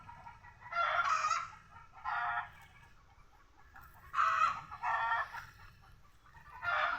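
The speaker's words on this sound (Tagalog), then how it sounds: "Medyo maingay lang yung mga manok ko." Backyard chickens at home, some laying eggs, cluck loudly in repeated bursts while a rooster crows, the calls separated by short quiet gaps over a faint low hum.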